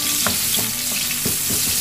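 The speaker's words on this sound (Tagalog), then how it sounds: "gisa na natin yung bawang sibuyas" Garlic and onion sauté in a hot pan, giving a steady close sizzle broken by several sharp spatula knocks and scrapes against the metal.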